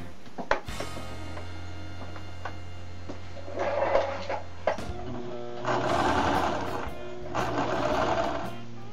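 A sewing machine stitches two pieces of patchwork fabric along a diagonal, a quarter inch from the line, running in a few steady bursts with short pauses and handling clicks between them.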